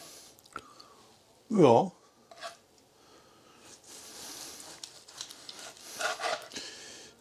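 A knife slicing into a marinated veal roll roast, one short scraping cut standing out between quieter rubbing and handling sounds, with a person speaking briefly.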